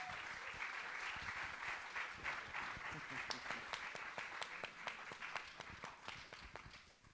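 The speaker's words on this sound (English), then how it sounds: "Please give him a round of applause." Audience at a film screening Q&A applauding a filmmaker, dense clapping filling the room that gradually thins and fades toward the end.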